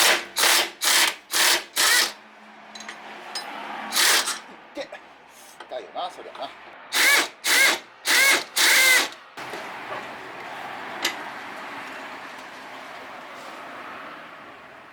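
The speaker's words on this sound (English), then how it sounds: "You first take these two bolts off from the coilover mount." Power tool, an impact driver or drill, zips off the coilover mount bolts on a Subaru WRX STi, a run of five short loud bursts, then one more, then four, with quieter workshop noise and scraping between them.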